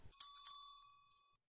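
A bright notification bell dings twice in quick succession and rings out, fading over about a second, alone and clear.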